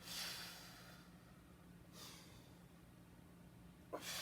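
Soft, breathy exhales during a stretching exercise that opens the thoracic spine, with one at the start, one near the middle and a short one at the end, all quiet and close.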